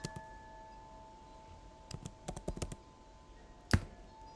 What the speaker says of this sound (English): if I begin typing assets